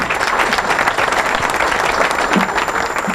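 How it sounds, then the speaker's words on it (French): Dense, steady applause from a book-signing audience fills the room at full volume, many hands clapping together without pause, with a few stray voices faintly mixed in. "On va applaudir très très fort."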